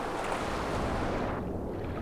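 A waterfall in the prehistoric game Far Cry Primal, heard as a loud, steady broadband rush of falling water, close and continuous, easing slightly in the upper range near the end with no voices.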